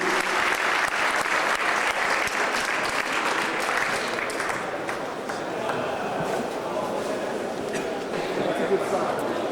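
An audience at a German horror fan convention applauds Tom Savini, with thick, sustained clapping from many hands that eases slightly midway and carries on steadily to the end.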